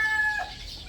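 A Butcher/White Kelso cross chicken, a large four-month-old bird, gives a short vocal call up close, heard alone against a faint background.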